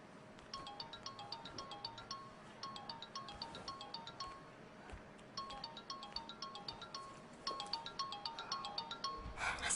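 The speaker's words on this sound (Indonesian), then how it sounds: "Permisi dok, boleh saya terima telepon dari Mas Arga?" An incoming-call ringtone on a phone sounds in repeated bursts of bright chiming notes, steady and moderately loud throughout with almost no talk over it.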